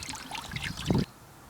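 Water trickling and splashing out of a Jaguar X-Type engine into a bucket during a coolant flush, a wet patter that swells into a short gush before cutting off abruptly to quiet.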